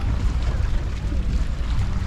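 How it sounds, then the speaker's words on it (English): Strong wind buffets a small fishing port in Iloilo, Philippines, a steady low roaring rush with no clear breaks. "it's so windy down here on this little port area here"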